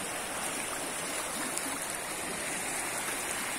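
River water flowing steadily at the Cañaveralejo reservoir, a continuous broadband rush with no pauses, fairly even in loudness throughout.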